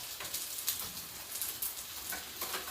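Fish cakes sizzle and crackle in hot oil in a frying pan, a steady, close, bright hiss with scattered pops and no talk.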